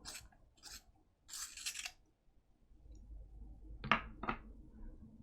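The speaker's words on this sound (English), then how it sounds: "Just going to sharpen." Caran d'Ache Pablo colored pencil being sharpened, heard as several short dry rasping bursts separated by pauses, fairly quiet and close, with no talking.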